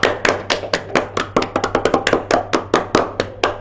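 Hands clap in an irregular, close run of sharp slaps, about two dozen claps over a few seconds. The pace is uneven and there is no crowd. A low hum sits beneath.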